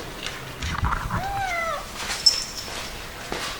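A cat near a Yamaha FJ1200 motorbike gives a single drawn-out meow, close and fairly clear, followed by a quiet background with a faint high tone.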